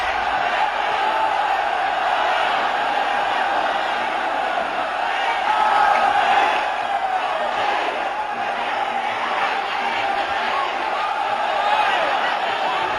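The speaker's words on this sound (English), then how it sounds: "The crowd is going crazy as the odds start to go against the champion." A large crowd at a Muay Thai fight roars continuously, a dense, sustained wall of shouting and cheering that surges slightly midway and stays loud throughout.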